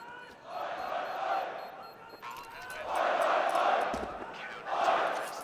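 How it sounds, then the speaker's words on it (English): An esports crowd at a CS:GO quarterfinal at IEM Sydney roars a defiant chant in rhythmic surges, each swell rising and falling repeatedly, loud but heard from a distance across a large venue. "It's a chant of defiance from the crowd, despite the defuse coming in."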